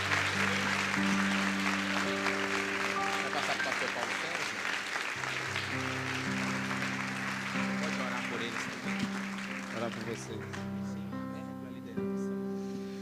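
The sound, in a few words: congregation applauding in church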